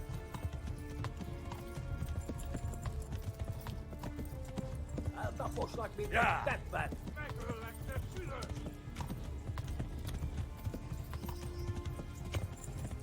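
Horse hooves clip-clop at a gallop in the medieval video game Kingdom Come Deliverance, a steady rhythmic pounding under game music and a brief whinny mid-clip, with someone speaking briefly over it.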